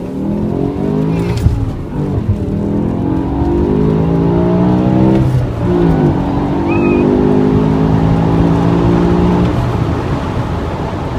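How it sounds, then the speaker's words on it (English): A BMW E60 M5 with its V10 engine revs hard through second and third gear on a highway, the rising engine note climbing and dropping at each shift, loud and continuous from inside the car. "let it rev through second and third gear, and hold on for dear life"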